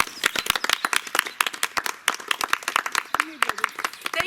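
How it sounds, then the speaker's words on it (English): An audience gives a round of applause, with sharp, distinct claps in a quick irregular rhythm, close and fairly loud, from a modest number of people rather than a dense roar. "I want to begin with a round of applause for the power of our aging brains."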